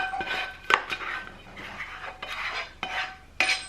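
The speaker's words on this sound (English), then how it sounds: "I'm going to transfer my gnocchi into a baking dish" Gnocchi being transferred into a baking dish, with repeated scraping and clinking of a utensil against cookware in irregular bursts, close and fairly quiet, no talking.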